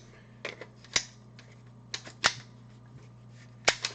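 An AK-V magazine being rocked into the rifle gives sparse, sharp metallic clicks and clacks, about six distinct knocks spread irregularly over a few seconds against a steady low hum.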